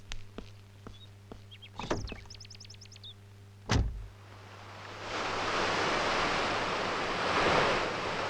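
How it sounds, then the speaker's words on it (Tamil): After a few sharp knocks and a brief squeal, sea waves rise into a broad, loud rushing wash against the shore, swelling steadily toward the end. "இங்க கடல் அலைங்க மட்டும்தான் இருக்கு"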